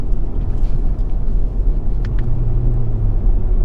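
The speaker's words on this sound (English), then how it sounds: "The car just really accelerates and it's awesome." A 2021 Audi S4 Premium Plus with an 8-speed automatic accelerating hard, its loud, steady engine rumble rising in pitch and filling the cabin, with no talking.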